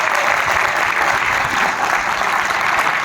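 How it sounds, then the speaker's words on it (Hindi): A Milifestyle stage-event audience gives loud, sustained applause, a thick and even wash of many hands clapping up close throughout, with no talk over it. "अगर जानते हैं तो फिर तो ये तालियां बहुत थोड़ी हैं उनके लिए यार।"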